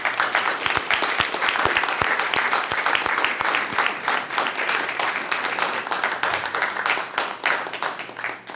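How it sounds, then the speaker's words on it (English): Audience at a city council meeting gives a round of applause for city employees and staff, steady close clapping from a room of people throughout, with no speech over it. "Please join me in a round of applause for our city employees and staff."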